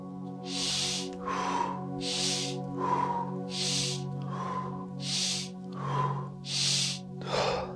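Rapid, deep Tummo breaths from the Tibetan breathing technique, a steady rhythm of about seven forceful inhale-exhale cycles, each a loud airy rush alternating with a sharper breath, close to the mic over a constant low hum, with no talking.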